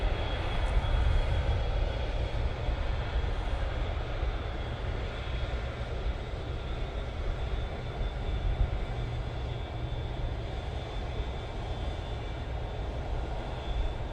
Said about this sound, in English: the Emirates A380 is now coming on